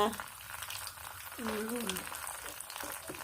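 Yira leaves and papaya fry in hot oil with a soft, steady bubbling sizzle, close by, while a voice speaks briefly over it.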